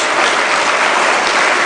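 A church congregation bursts into dense, steady applause, loud and close, filling the space evenly from start to finish without any voices on top.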